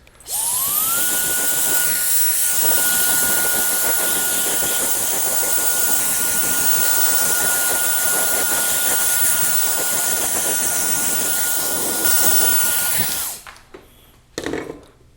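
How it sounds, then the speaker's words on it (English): A hair dryer blowing loose hairs out of a freshly cut textured crop. It starts with a rising whine, then holds a loud, steady whooshing roar up close for about thirteen seconds before cutting off, leaving a few brief rustles. "we're gonna blow dry the hair to get all those loose hairs out"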